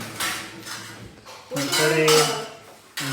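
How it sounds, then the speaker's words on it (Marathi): Dishes and pots clatter and clink in bursts, with metallic scraping and running water, close by, alongside some faint voice. "स्टँड धुतला भांडी धुतली"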